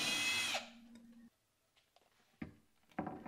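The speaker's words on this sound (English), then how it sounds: "then I pre-drilled holes through the top of each of them." A power drill pre-drills holes through wooden cleats on a dresser build, whining briefly at the start and then stopping, followed by a few faint clicks and knocks of handling.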